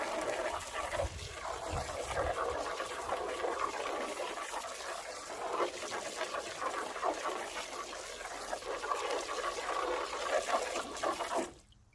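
Hot water pours and splashes steadily into a plastic rabbit litter tray for several seconds, a continuous rushing trickle that stops abruptly at the end.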